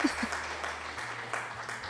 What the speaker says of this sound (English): Thank you for the applause, Sammy.